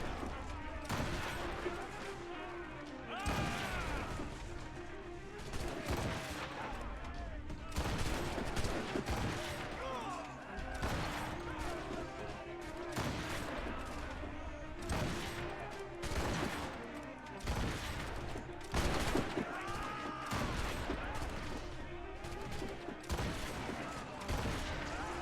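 Rapid gunfire and volleys of shots in Assassin's Creed Rogue, a naval-era action game, crackling densely throughout with bursts and booms, loud and continuous, with occasional voices underneath.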